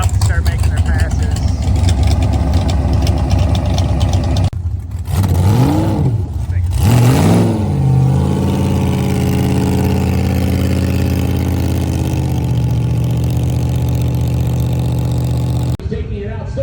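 A heavy tractor engine rumbles at idle, then revs up sharply in rising and falling surges before settling back into a steady loud drone.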